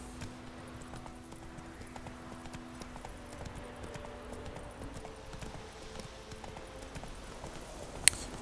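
Roach the horse trots in The Witcher 3: steady, moderate clip-clop hoofbeats over a soft tonal game background, with one sharp click near the end.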